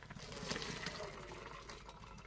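Boiled taro leaves with their cooking water poured out of a pot, a soft continuous splashing and trickle heard close but fairly quiet.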